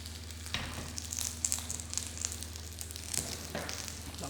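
Potato put into a smoking hot pan, crackling and sizzling fat with small pops, faint and steady for a few seconds.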